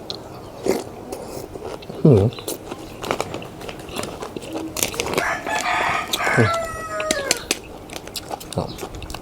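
Rooster crowing outdoors during cooking of Thai kuay jap noodle soup, a rising crow with harmonic tones around the middle of the clip, moderately loud, amid clatter, chewing and scattered background noise.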